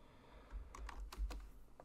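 A few quiet, quick keystrokes tap on a computer keyboard while someone writes CSS code, soft and close with no voice.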